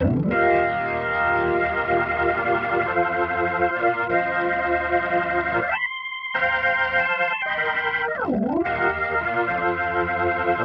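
Hammond B-3X organ played through a Leslie speaker with its preamp gain pushed and volume lowered, sustaining distorted chords loudly and continuously, with a brief gap and a falling pitch swoop near the end; no voices.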